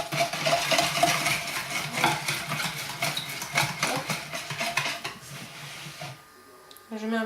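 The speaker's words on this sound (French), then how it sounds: "Je mets la farine et les poudres dedans. Et je mélange." Flour and powders are stirred into a bowl of liquid pancake batter, giving steady scraping and clinking of a utensil against the bowl. A voice runs alongside, and the stirring fades near the end.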